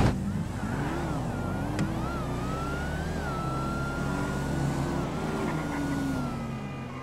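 Tuned Cadillac CTS-V and Dodge Hellfire big-tire drag cars launching in GTA V, a sustained loud engine roar with rising and shifting revs running steadily throughout.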